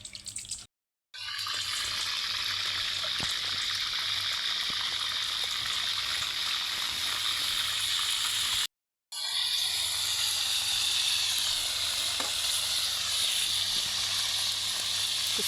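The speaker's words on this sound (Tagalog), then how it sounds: "Magprito ron si Sam og" Fish fries in a pan with a steady, bright sizzle and hiss, close and constant, broken by two short silent gaps, with no talking.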